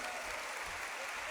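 Brief, steady wash of crowd clapping at a Hindu religious gathering, a continuous dense patter heard from a distance without pauses.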